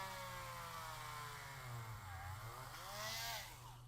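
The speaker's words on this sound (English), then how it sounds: "we are going to do is drill a hole in this Spider-Man bicep" A small power drill bores into the bicep of a plastic Spider-Man toy, its motor whining steadily and shifting pitch as the bit bites, close and fairly quiet, with no talking.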